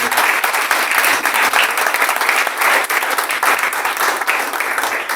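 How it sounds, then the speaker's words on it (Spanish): Church congregation applauding enthusiastically, a loud, dense burst of many hands clapping steadily throughout, with no speech over it. "Denle un aplauso al Señor."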